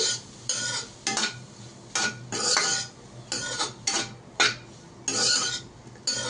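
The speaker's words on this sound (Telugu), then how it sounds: "మళ్ళీ 1 మినిట్ ఫ్రై చేసుకోవాలి." Boiled mushrooms fry in a pan while a spoon scrapes and stirs them in repeated bursts, each stroke bringing a short rush of sizzle over a quieter hiss.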